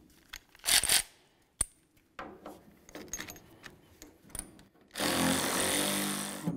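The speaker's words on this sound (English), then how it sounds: "remove this bolt right here, which is holding this in" Removing a bolt from the tailgate of a 1999–2006 Chevy Silverado with a power tool, sharp metallic clanks and ratchety clicks, then a loud sustained burst of tool whirring at the end, close and with no talk.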